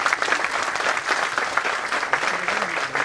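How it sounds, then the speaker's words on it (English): Audience applause at a finance accelerator curtain-raiser event, a dense, steady wash of clapping filling the whole span at even loudness with no voices on top. "A round of applause once again,"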